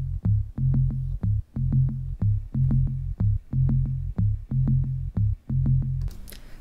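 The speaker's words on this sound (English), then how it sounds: "So it's a pretty basic bass line." A simple, repeating synth bass line in Bitwig pulses in short, steady notes, played alone and clearly, looping through the same pattern several times.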